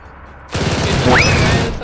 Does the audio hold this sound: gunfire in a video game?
yes